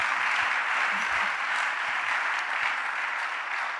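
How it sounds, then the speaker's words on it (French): A church audience applauds the choir singers, with steady, dense clapping from a sizeable crowd, close and loud, lasting throughout without any speech. "Acclamons les"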